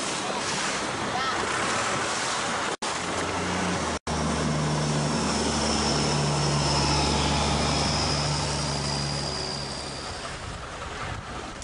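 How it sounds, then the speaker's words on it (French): A motorized flat-bottomed boat speeds along a Thai klong, its engine a steady low drone that swells and holds for several seconds, heard under loud wind and rushing water. "Ces embarcations à fond plat traversent parfois les klongs à pleine vitesse."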